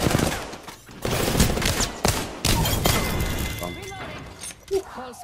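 Gunfire in Apex Legends on PS4 rattles in loud rapid bursts with shattering impacts, and players talk over the shooting toward the end.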